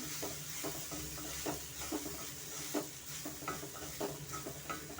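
Cooked rice being stirred and mixed into tangy amla (gooseberry) gojju for amla chitranna, a steady run of soft scraping stirs with a faint sizzle underneath, close and fairly quiet throughout.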